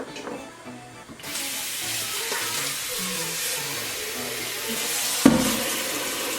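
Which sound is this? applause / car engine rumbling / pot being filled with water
pot being filled with water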